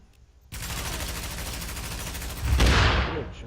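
Shotgun fire in the shooter game Tom Clancy's The Division, a sudden dense burst of rapid gunfire that starts abruptly and grows louder toward the end.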